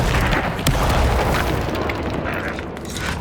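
The Bombarda spell from Hogwarts Legacy goes off as a loud, close, booming explosion that fills the whole moment with dense rumbling blast noise and trails off into a crackling roar.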